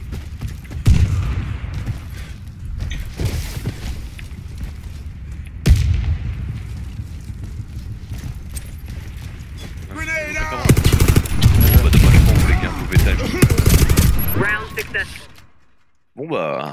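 Gunfire in the online shooter Warface during a ranked match: bursts of automatic fire and single shots throughout, growing into dense, loud sustained firing near the end, with a voice talking over parts of it.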